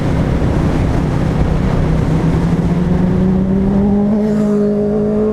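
A Honda Repsol-liveried sport motorcycle, a CBR600RR or Fireblade, passes on an Elan Valley road. Its engine tone rises and climbs clearly toward the end over a constant drone of engine and wind roar.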